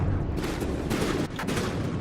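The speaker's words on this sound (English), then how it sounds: "And is hitting with that cram cannon" In the video game From the Depths, a CRAM cannon fires in a dense, continuous roar of heavy booming shots layered over steady battle noise, loud throughout with no voices.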